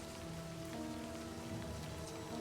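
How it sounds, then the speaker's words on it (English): Steady rain falls in the video game Livber: Smoke and Mirrors, a soft, even hiss of drops pattering on a surface, faint and continuous with no voices. "Raindrops splatter on the paper, leaving small wet stains"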